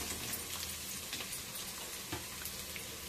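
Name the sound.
frying ingredients for bagara rice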